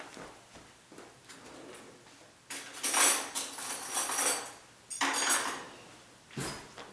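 Small metal spoon scraping along tile grout, in several harsh gritty bursts separated by quieter pauses, close and fairly loud.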